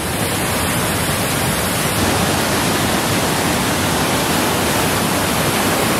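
A river rushes beneath a small bridge in Gatineau Park, Quebec, a loud, dense, unbroken roar of flowing water filling the whole clip, no voices.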